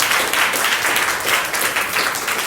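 A church congregation claps hands together in a steady, full wash of applause with rhythmic pulses, fairly loud and without talk.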